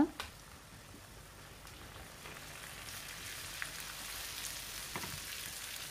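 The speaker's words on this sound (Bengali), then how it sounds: "পেঁয়াজ রসুন ভাজা হয়ে গিয়েছে এবার আমি এখানে দিয়ে দিব আছে সামান্য পরিমাণে আদা বাটা" Ginger paste goes into onion and garlic frying in oil for a winter-vegetable khichuri, a soft thud at the start followed by a quiet, steady sizzle.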